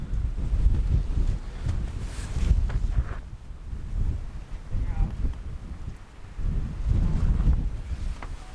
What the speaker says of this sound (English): The wind gust just blew our ready light over.